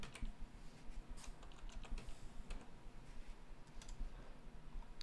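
Fast, light typing on a computer keyboard, with a steady patter of close, quiet key clicks and no voice.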